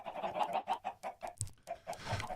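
Chickens clucking in the Minecraft game, a run of short, repeated clucks in a quick uneven rhythm, fairly close and alone with no talk.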